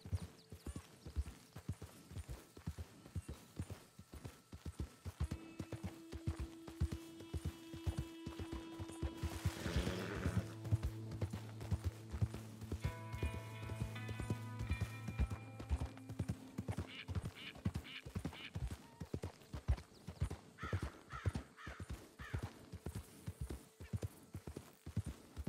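Horse hooves clip-clop in a steady, continuous rhythm in Red Dead Redemption 2, close and even throughout, with a brief whinny and some tonal game sounds partway through.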